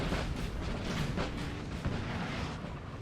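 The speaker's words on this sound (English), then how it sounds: "that artillery way up here is going to start shooting" Artillery firing in Napoleonic Total War 3, a dense rolling rumble of distant booms and blasts merging into a continuous low roar.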